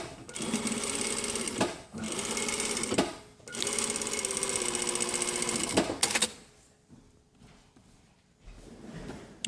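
A domestic sewing machine runs in three bursts, understitching near the folded edge of a jacket undercollar, its needle whirring steadily with short pauses between runs, then falls quiet apart from faint handling of fabric.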